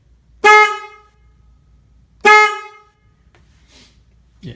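A replacement horn on a Kawasaki Vulcan motorcycle sounds two short, loud, close honks about two seconds apart, each a bright buzzy blast that quickly fades.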